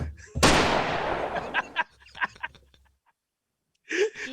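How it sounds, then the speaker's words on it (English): A gunshot sound effect played from a soundboard: a sharp, loud blast with a decaying rumble, followed by short voice sounds and breathy noises, then a brief burst of talk. "Nah, but I got gunshots. Shoot another one."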